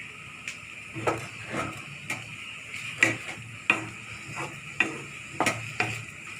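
Soft sizzling of paneer and potatoes frying in a pan over medium heat, under irregular scraping and tapping of a utensil stirring, several clicks spaced a second or so apart.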